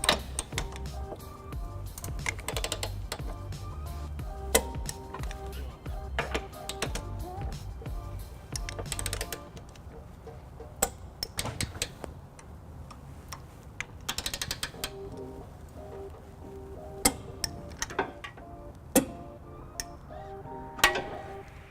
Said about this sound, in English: you'll hear that value reached when the wrench clicks